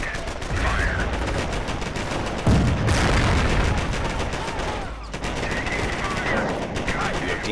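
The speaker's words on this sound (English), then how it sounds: "Cannon on target. Fire." Cannon fire from a Sherman tank during a Company of Heroes training battle, with sharp blasts and a rolling burst of gunfire cracks, loud and dense, plus a heavy boom midway through.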